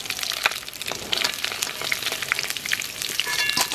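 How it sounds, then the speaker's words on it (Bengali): Fish frying in hot oil crackles and sizzles densely as pieces are taken out, with quick spattering pops and light scraping strokes close by. "মাছ ভাজা হয়ে গেছে আরে মাছ তুলে নেব"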